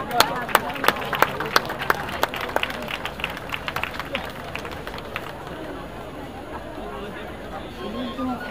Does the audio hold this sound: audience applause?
yes